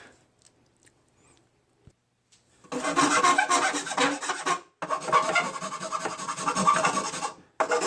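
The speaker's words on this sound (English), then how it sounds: "another Craftsman tool, the 10-inch file." A Craftsman 10-inch file rasps across a metal chassis plate in two long, loud, close strokes after a near-silent start, with a brief pause between them.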